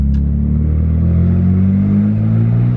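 Nissan Skyline GTR fitted with an HKS racing suction intake, its engine droning loud and steady at raised revs, a deep sustained hum filling the clip with no talk.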